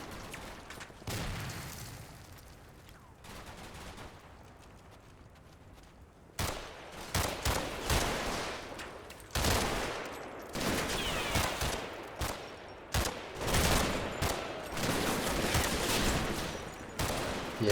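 Submachine gun fire and other gunfire in the WWII wargame Combat Mission, Operation Epsom, with repeated bursts and booms, some distant and faint, others louder and closer.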